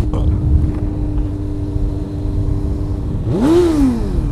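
A motorcycle engine idles with a steady hum, then revs sharply near the end in a loud rising and falling roar.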